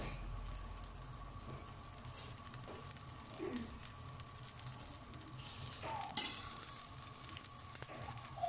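A wheat rava dosa with oil poured around its edges crackles gently on a hot griddle, a low steady sizzle close by with a sharp tap near the end.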